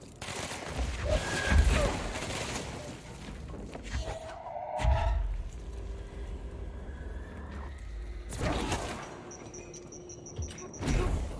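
Gunfire and a grenade blast in the video game Control come as dense, noisy bursts with heavy low thuds, loudest near the start and again around the middle and the end, with game effects ringing in between.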